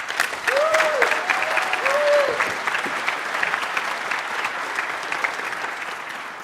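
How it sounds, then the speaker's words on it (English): A conference audience at the European Collaboration Summit breaks into applause, a broad, steady clatter of many hands that swells early, then gradually thins, with a few voices mixed in. "Please, a round of applause."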